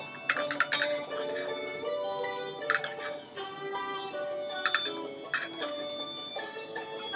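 Cooked garlic cloves go into a bowl in a home kitchen with a series of bright clinks and taps of ceramic or glass against each other, close and fairly sharp, in scattered bursts against quiet.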